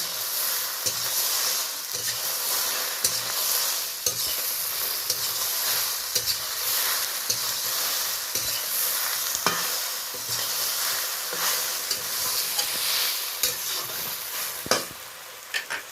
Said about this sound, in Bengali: হালকা হাতে আরও 2 বার আমি নেড়ে নিচ্ছি।